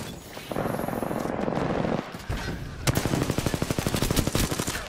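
Rapid automatic machine-gun fire in a shooter video game, a long sustained burst of evenly spaced loud shots after a shorter stretch of continuous firing, close and dominant with no talk over it.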